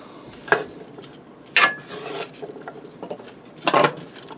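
Sausage and potatoes are stirred in a skillet, giving a few scraping, rubbing strokes of a utensil against the pan in separate bursts, close and fairly loud.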